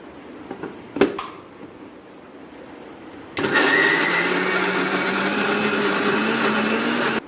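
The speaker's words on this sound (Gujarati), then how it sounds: "હવે આને આપણે સારી રીતે મિક્સરમાં ક્રશ કરી લઈશું." A kitchen mixer grinder crushes soya chunks with onion, green chili and garlic; after a few knocks, the motor bursts on loud and whirs steadily, its pitch rising slightly as it runs.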